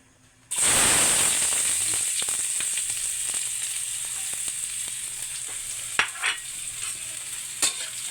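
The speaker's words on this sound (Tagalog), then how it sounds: "ikisahin na natin itong bawang, sibuyas, luya" Garlic, onion and ginger hit hot oil in a pan with a sudden loud sizzle that settles into steady frying hiss, broken by occasional clinks and scrapes of stirring.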